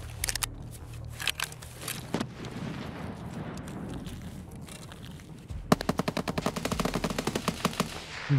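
Gunfire in Escape from Tarkov: scattered shots crackle at first, then a rapid automatic burst rattles out in a fast, regular string of loud cracks toward the end.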